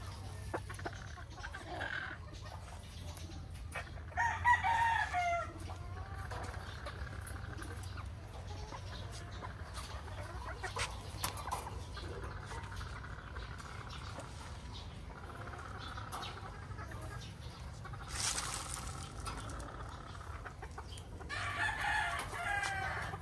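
Roosters crowing repeatedly in a small backyard breeding area of a gamefowl farm, several calls near and farther off among clucking and ambient farm noise.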